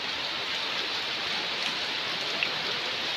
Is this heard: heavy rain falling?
yes